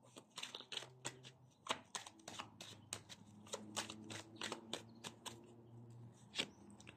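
Tarot cards are shuffled in quick, crisp riffles and flicks close up, a series of soft rapid ticks and rustles with no talking.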